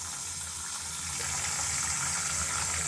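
Tap water gushing steadily into a bowl to soak cut potatoes for a Bengali fish curry, a continuous broadband rush with no speech.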